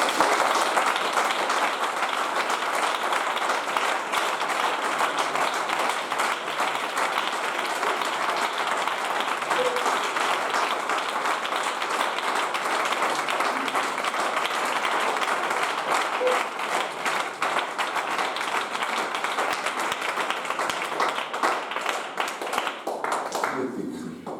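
A church congregation applauds with sustained, dense clapping that stays steady and fairly loud for over twenty seconds, with no voices on top, then tapers at the end.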